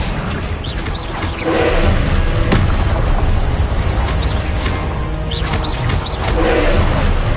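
An Accio spell cast in the Hogwarts Legacy video game, heard amid heavy booming, roaring combat noise with repeated whooshing bursts over several seconds.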